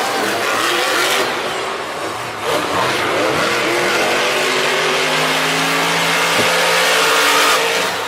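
Monster Jam trucks Dalmatian and Hooked race in a Nashville arena, their engines roaring and revving loud and steady against the noise of a cheering crowd.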